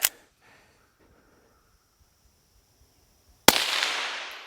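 A Volquartsen Scorpion .22 WMR pistol fired at a target 100 yards out: one sharp report at the very start, quiet, then a second loud crack with a long fading outdoor tail.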